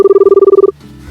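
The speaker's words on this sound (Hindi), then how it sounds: "तो चलिए मैं उनको फ़ोन लगाता हूँ बिना देर किए हुए।" A phone call's ringing tone plays loudly and alone, a rapid, evenly pulsing electronic burble that cuts off abruptly after under a second, leaving quiet room noise.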